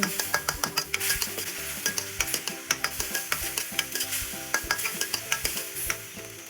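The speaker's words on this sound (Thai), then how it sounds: "จากนั้นผัดส่วนผสมทุกอย่างให้เข้ากัน" Minced chicken is stir-fried with light soy sauce, dark soy sauce and sugar in a hot pan: rhythmic spatula scrapes and clacks against the metal over a steady close sizzle, with no voices.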